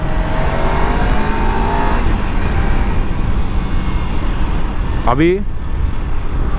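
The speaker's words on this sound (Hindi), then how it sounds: "This is 6th gear, 4000 RPM, 60 पे क्रूज़ हो रहा है। कितना एफर्टलेसली क्रूज़ हो रहा है" A Kawasaki Ninja 300 twin-cylinder 300cc motorcycle cruising in sixth gear at 4000 RPM and about 60, its engine humming steadily under heavy wind roar while the rider speaks briefly.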